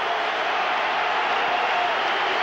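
A packed boxing arena crowd roars for Calzaghe vs Eubank, a dense, steady wall of cheering and shouting that holds at full loudness throughout.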